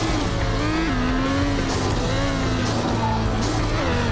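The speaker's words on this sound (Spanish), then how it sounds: "Ahora estamos utilizando este auto deportivo Lamborghini de color gris con franjas amarillas y rojas" A grey Lamborghini sports car with yellow and red stripes driving in the Extreme Car Driving Simulator game, a steady engine drone with rising and falling pitch as it revs and shifts, loud and continuous.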